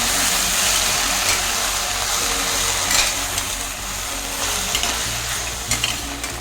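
Vegetables for a fenugreek-leaf sambar sizzle and fry in a pan with a steady crackling hiss, close and fairly loud, with a few stirring scrapes and no talking.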